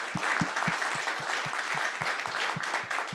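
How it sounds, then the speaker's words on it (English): Audience applause fills the room after a talk at an astronomy conference session, a steady dense wash of clapping that holds at even strength throughout. "We'll give a round of applause for you."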